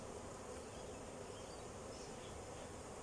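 A dense, steady buzzing of many honeybees in an open hive being smoked, close and continuous, with no voices.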